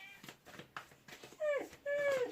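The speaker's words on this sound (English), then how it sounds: "all of a sudden they're all barking and meowing" Close, excited animal noises: a dog's barks and whines are followed by two drawn-out, rising-and-falling cat meows.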